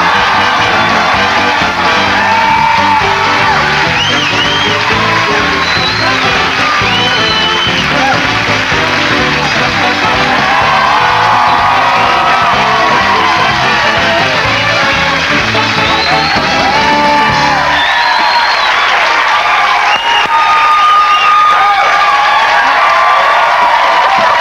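A late-night television studio audience cheers, whoops and applauds as a comedian guest walks on. The roar is loud and continuous from start to finish, easing into lighter applause and scattered shouts near the end.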